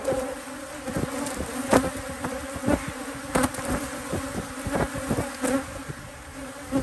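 Honey bees at an apiary drone in a steady, dense buzz, with individual bees zipping close by in brief louder passes.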